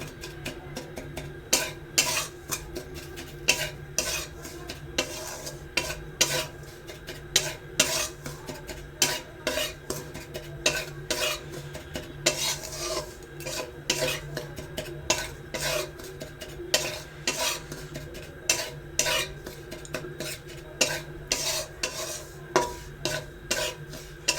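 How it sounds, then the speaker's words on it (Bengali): Semolina frying in ghee in a wok, stirred with a busy stream of rapid scraping and clinking strokes against the metal over a low sizzle, close and continuous without speech. "এখন একটুখানি গাওয়া ঘি দিয়ে সুজিটাকে ভেজে নিচ্ছি"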